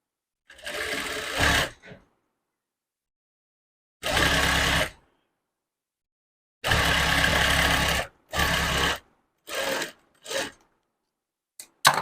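A sewing machine stitches a blouse hem in several loud, close bursts of rapid whirring, separated by silent pauses, with one short final burst.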